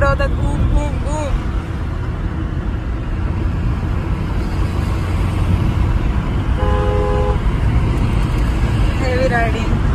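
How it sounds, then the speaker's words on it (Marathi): Vehicles moving along a busy road: a steady, dense rumble of engines and traffic with a few horn toots near the start and again partway through. People talk faintly over the noise. "कुठून पण गाडी नुसती फिरवतात, बूम बूम बूम"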